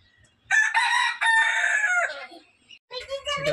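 A rooster crows up close on a farm, one long loud drawn-out call followed after a short gap by the start of another.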